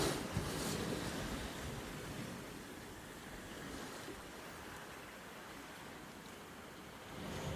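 Ocean waves surge and break steadily at a surf beach in Real, Quezon, a continuous broad wash with some wind noise on the microphone and no talk.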